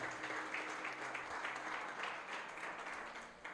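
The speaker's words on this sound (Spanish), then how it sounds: "Dale un aplauso a Dios en este día." A church congregation at a Spanish-language evangelistic service applauds in sustained, even clapping from many hands, with a low hum of the room underneath.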